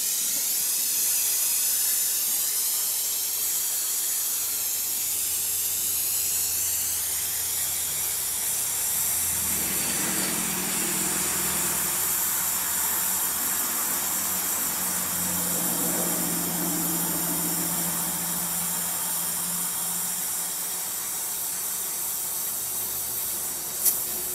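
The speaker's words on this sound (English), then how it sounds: "let's see how the oxygen acetylene heat wrench works on this" An oxygen-acetylene torch heats metal until it glows red, giving a steady loud hiss and roar that runs unbroken the whole time, with a few brief flares in the flame's rush and no talking.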